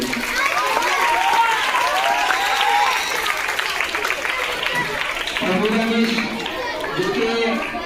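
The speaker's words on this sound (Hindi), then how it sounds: "तो नासिर सर के लिए भी जोरदार तालियां बजाइए।" A school audience applauding a respected teacher, dense clapping mixed with crowd chatter and voices, loud and sustained across the whole stretch.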